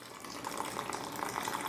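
A soft, steady trickle of water runs into cornflour and salt in a bowl while a batter is mixed, close and continuous with no talk.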